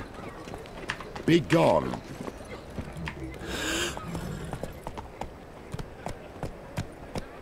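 Quick hoof clip-clops from a horse in The Witcher 3, mixed with game effects and someone talking briefly over them.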